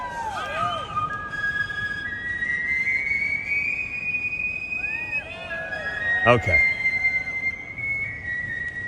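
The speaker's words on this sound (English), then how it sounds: "There's a whistled national anthem from over the weekend from the Baltimore Orioles game." A national anthem whistled at a Baltimore Orioles baseball game: a sustained, melodic whistle carries steadily through the stretch over a background of crowd murmur, with a short spoken word nearby.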